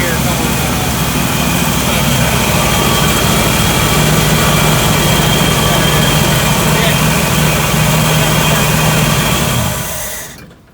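A 1967 Chevy El Camino barn find idles steadily at close range, a loud, even low rumble with a slightly noisy alternator whine, holding for about ten seconds before cutting off abruptly.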